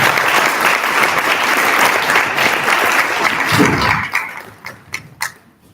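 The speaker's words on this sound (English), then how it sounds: "Can we give Dr. Kali another hand clap?" Audience applause at a district gathering, loud dense clapping from a crowd sustained for several seconds, then thinning into a few scattered individual claps before stopping.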